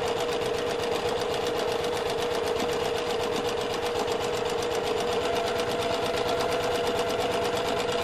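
A noisy sewing machine stitches a drawstring pouch with a fast, rapid-fire mechanical clatter and a steady whirring hum, running close and continuously with no pauses.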